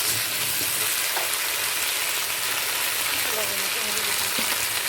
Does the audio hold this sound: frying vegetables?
yes